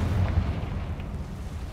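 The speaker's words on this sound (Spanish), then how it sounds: "Parece que había ahí una pequeña explosión." A small explosion in Hogwarts Legacy, heard as a low, muffled rumbling boom that lingers briefly beneath a steady game background with no voices.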